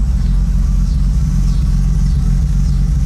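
A BMW E28 with an M30 straight-six on individual throttle bodies, standalone ECU and full exhaust idles loudly and close, a deep steady rumble with a lumpy, uneven pulse and no revving.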